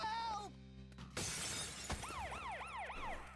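Glass shatters with a sudden crash in the Lollipop Chainsaw RePOP video game, followed by a wailing siren that rises and falls repeatedly over game sounds.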